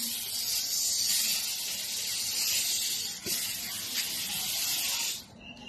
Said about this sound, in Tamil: ஏன் ஸ்ப்ரே அடிச்சேன்னா